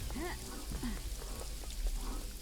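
Rain falling in the video game Paradise Killer: a steady, dense hiss that runs throughout at moderate level, with a few faint, brief tonal chirps over it.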